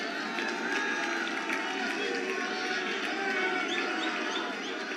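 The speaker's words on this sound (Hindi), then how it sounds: "जोरदार तालियों से खड़े होकर स्वागत कीजिए माननीय प्रधानमंत्री जी का" A large crowd at a BJP victory thanksgiving rally stands and cheers with applause to welcome the Prime Minister, a dense, steady roar of voices and clapping filling the whole space.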